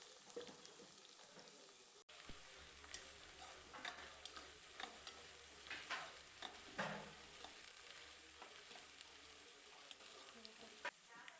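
Chopped garlic and medium-sized onion pieces fry in a pan for gongura chutney, giving a soft steady sizzle with frequent scraping stirs and light clinks, fairly quiet and close.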